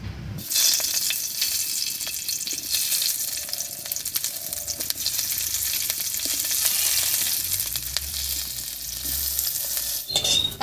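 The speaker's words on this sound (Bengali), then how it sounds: "এবারে কড়াইয়ের মধ্যে কয়েকটা কাঁচা লঙ্কা আমি ভেঙে দেব।" Green chillies are broken into hot oil in a kadai and sizzle steadily, loud and close, with occasional stirring scrapes and no talking.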